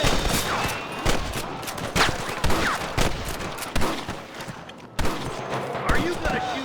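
Repeated gunfire in a Red Dead Redemption shootout: sharp, loud shots come in irregular bursts of single cracks and quick volleys throughout, with shouting voices mixed in.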